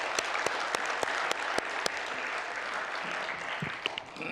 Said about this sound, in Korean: 우리 박수 좀 한번 해요